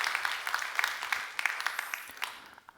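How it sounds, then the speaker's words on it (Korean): Church congregation clapping for a group of performers, a brief round of scattered hand claps of moderate volume, fairly close and continuous, without speech. "박수 한번 해주셔요."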